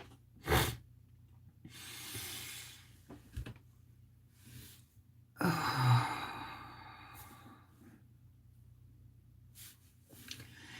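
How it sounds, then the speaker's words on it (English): A person takes a slow, deep breath, with a soft inhale and a longer, louder exhale, followed by quieter breaths and faint rustling in a hushed room. "So take a nice deep breath."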